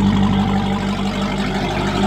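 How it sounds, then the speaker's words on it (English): A Dodge Hellcat with a center dump exhaust rumbling close by, a deep continuous engine drone over about two seconds that dips slightly in the middle. "That's a real Hellcat with center dump."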